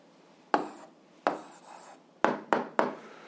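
Marker or pen strokes on a board while an algebra answer is written out: five short scratchy strokes, close and fairly quiet, the last three in quick succession, with no talk.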